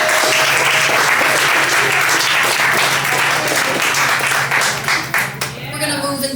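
An audience at a poetry reading breaks into applause, a dense sustained wash of clapping that thins out toward the end, with some voices in the mix.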